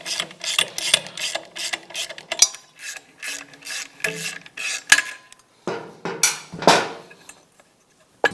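A ratchet wrench works a bracket bolt loose on a vehicle, giving short bursts of clicking ratchet strokes with scraping and metallic handling noises between them, close and fairly clear, with no talk.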